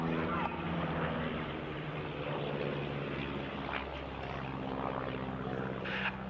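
Propeller drone of a de Havilland Chipmunk trainer flying a crossing break at an RAF Cosford air show, a steady, moderately distant engine hum sustained throughout with crowd and commentary noise faintly beneath.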